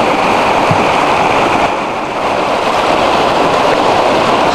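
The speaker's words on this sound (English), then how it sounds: "convergence of these different streams feeding in here." Powerful rushing water from several meltwater streams converging in McCormick's Creek canyon, a steady loud broadband roar close by with cold wind blowing, no voices.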